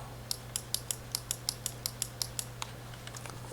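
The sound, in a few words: shuffling a deck of game cards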